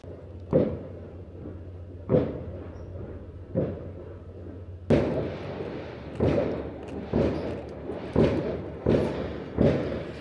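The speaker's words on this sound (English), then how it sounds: "At midnight, we went out onto the main deck to watch the fireworks." New Year's fireworks burst at midnight over Amsterdam, heard from the deck of a boat: a series of about ten loud, booming thuds at irregular intervals, getting denser and rumbling in the second half.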